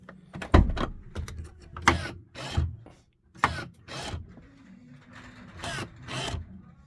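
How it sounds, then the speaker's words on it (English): Door mechanism on a MAN TGE van conversion working through several cycles, a series of close, sharp clunks, latch clicks and short mechanical whirrs separated by brief pauses. "Check the door's all working."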